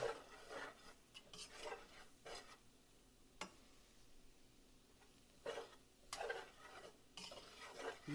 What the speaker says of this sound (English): You just want to keep stirring this.